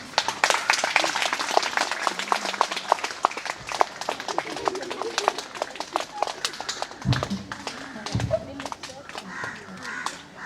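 School children clapping and cheering for a guest at an assembly in Puducherry, a lively burst of many hands applauding with scattered shouts and someone speaking over the noise.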